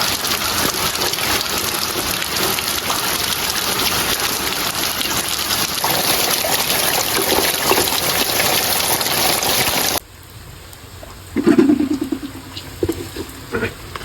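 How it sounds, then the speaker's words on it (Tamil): Heavy rain pours down in a dense, steady roar for about ten seconds, then the sound drops abruptly to a much quieter background with a few scattered clatters. "இங்கே அடமழை பெய்யுது"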